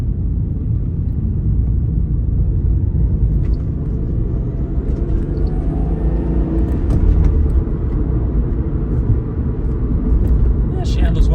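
A Toyota Supra being driven, with a steady low engine and road rumble heard from inside the car and a few brief clicks and rattles toward the end.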